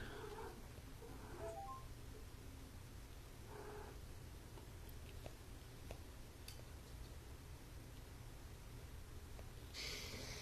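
A cat in heat caterwauls faintly in a noisy room, with a few brief, quiet yowls rising over steady low background hum.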